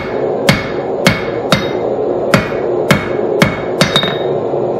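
A hammer strikes hot steel on an anvil while forging blacksmith tongs, about nine sharp, ringing blows at a fairly regular pace over a steady background roar, likely from the forge.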